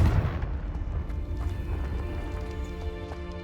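A Confringo fire spell blasts in Hogwarts Legacy, a deep booming burst up front that rolls off into a sustained rumble under a steady game-music bed, with no talk.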